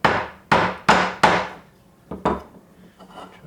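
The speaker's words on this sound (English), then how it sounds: "Just take your hammer." Hammer taps knocking out the seal of a three-synchro MGB gearbox on a workbench: four sharp, ringing metallic strikes in quick succession, then two lighter taps and faint clatter, close and alone without speech.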